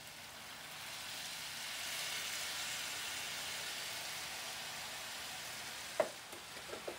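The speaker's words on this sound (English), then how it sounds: "it'll basically deglaze the iron skillet as well a little bit from the bottom" Vinegar deglazes the pan drippings in a hot iron skillet, a quiet, broad steady hiss of sizzling and steam that swells and fades, ending with a few small knocks.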